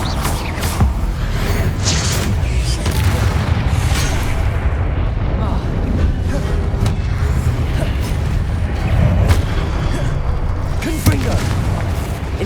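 Repeated Confringo fire-blast spell explosions in Hogwarts Legacy, a dense run of heavy booms and rumbling blasts layered over continuous battle noise, loud and close throughout.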